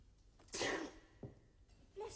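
A single sharp sneeze bursts out near the start, close and loud, followed by a brief softer vocal sound and a short voice at the end of an otherwise quiet indoor scene.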